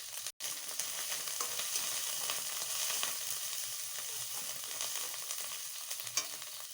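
Onion and garlic paste fries steadily in a pan for a drumstick (sajne data) chorchori, a dense continuous sizzle with a short break near the start and no talking.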